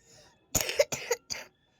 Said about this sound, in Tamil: இருமலாக வருதுமா.